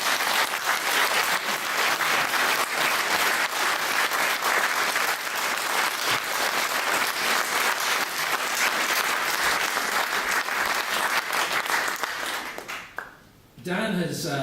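An audience at a Bruges Group meeting in Manchester, 2015, gives a speaker a long, steady round of applause that fills the room, then fades out at the end as a voice begins to speak.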